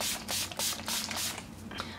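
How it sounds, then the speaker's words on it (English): Several short hissing sprays of Urban Decay All Nighter makeup setting spray burst out close by, one after another in quick succession, with faint mechanical clicks between them. "we are going to set my face with the Urban Decay All Nighter makeup setting spray,"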